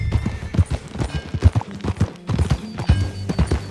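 Horse hooves clip-clop in Red Dead Redemption 2, a quick irregular run of close, clear hoof strikes at riding pace across the whole stretch.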